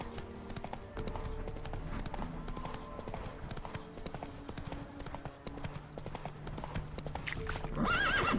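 Roach, a horse in The Witcher 3, galloping with a steady rhythmic clip-clop of hooves close by, ending in a brief whinny, with faint game sounds underneath.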